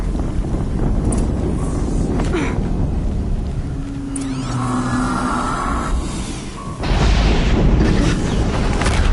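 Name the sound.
explosion in video game Bolts and Boblins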